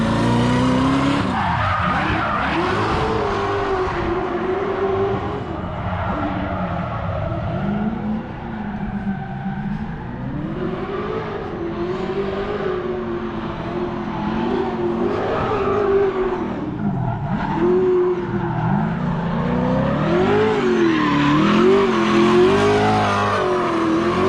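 A Spec-D race car at Mission Raceway rips a full run on the track, its engine droning loud and steady for the whole stretch with shifting pitch through gear changes and tire squeal, no talk over it.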